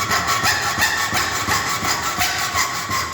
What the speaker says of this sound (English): the best way to do this is to create a series of cuts with my hacksaw